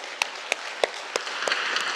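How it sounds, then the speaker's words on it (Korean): A church congregation claps after the choir finishes, with sharp, evenly spaced claps in a slow steady rhythm heard fairly close in a quiet hall. "우리 교회에서는 찬양대가 끝나면은 박수 치거든요"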